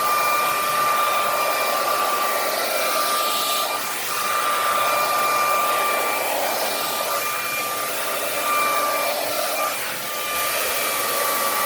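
A handleless hair dryer blowing continuously, a steady loud airy whoosh with a thin motor whine, briefly dipping in level as it moves, with no talking.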